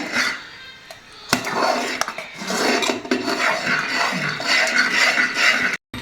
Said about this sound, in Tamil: அப்படியே கொஞ்சம் கிளறி கொடுத்துட்டே இருக்கணும்